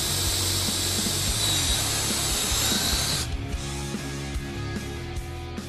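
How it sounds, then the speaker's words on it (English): A power drill boring a 5/32 hole to mount a Flex-a-lite fan speed control module to an electric cooling fan on a Ford F150, loud and close, running steadily for about three seconds before dropping to a quieter mechanical rattle. "Drill a 5/32 hole right there and right there to secure this to the fan."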